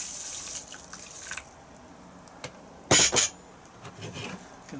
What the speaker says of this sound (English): I'll add some water to it.